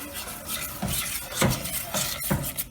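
A spoon stirs homemade playdough in a pot on the stove, giving soft rhythmic scraping and rubbing strokes at an even pace, close and moderately quiet.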